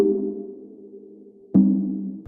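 Two sustained synthesizer chords with hyperdimension, chorus and reverb effects, each with a soft shimmering chorus and a lingering reverb tail, the second entering brighter and louder after a brief pause.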